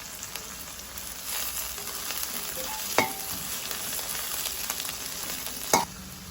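Curry leaves frying in hot oil for vegetable noodles give a bright, steady sizzle, punctuated by two sharp stirring clinks from a spoon in the pan, with no voices.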